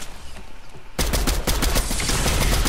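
Video game gunfire breaks out suddenly partway through, a dense loud burst of rapid automatic shots that keeps going to the end after a quieter stretch at the start.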